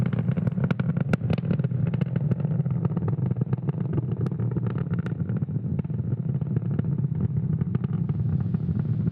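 SpaceX Falcon 9 rocket engines, throttled down near max Q during a supersonic ascent, give a steady, dense low roar with crackling bursts, continuous and loud throughout with no voices.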